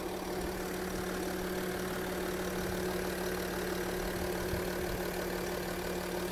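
A clean, well-kept 2.7 turbo diesel car engine idles smoothly and steadily throughout, a constant low hum with a faint whirring layer and no voices.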